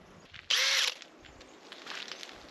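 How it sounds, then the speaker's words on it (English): A power drill fitted with a new bit spins up in a short, loud, close burst while boring dowel holes in taped wood, followed by quieter rattling and handling noise. "now I can get on with drilling the holes for the dowel"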